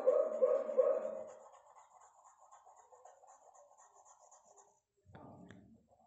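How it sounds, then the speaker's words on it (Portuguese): A small dog yaps a few times in a quick burst, then faint scratching and rustling follow, with a brief clatter near the end. "E Eva, minha cadelinha, ela fica latindo."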